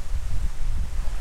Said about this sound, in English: I think we came out on the windiest day possible